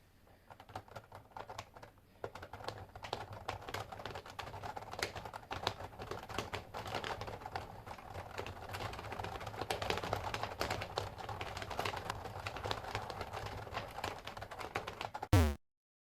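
Rapid, continuous clicking of keys on a keyboard, steady and close for several seconds, ending with a sudden louder click.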